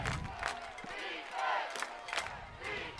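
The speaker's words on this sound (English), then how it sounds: "They're cheering, saying, let's go." Football crowd at a Carroll Tigers versus Boerne Greyhounds bi-district playoff game, distant fans chanting and cheering in swelling waves, faint and diffuse across the stadium.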